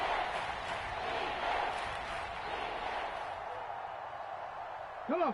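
A stadium crowd in a PS4 American football game roars in a broad, sustained wash ahead of a big third down, fairly loud and even, with a brief tonal blip at the end.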